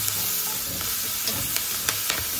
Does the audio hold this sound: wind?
no